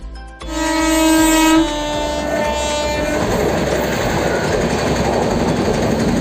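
A train rumbles past up close near Barkul on Chilika Lake, Odisha, opening with a long sustained horn blast, then a steady loud roar of wheels and rattling cars continues.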